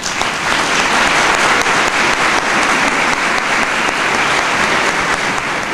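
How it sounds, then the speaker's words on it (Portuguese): Sustained, loud applause from a large audience after a university lecture, dense clapping continuing evenly for several seconds. "Professora Marilena, essas palmas já exprimem o quão é clara e iluminadora foi a sua palestra."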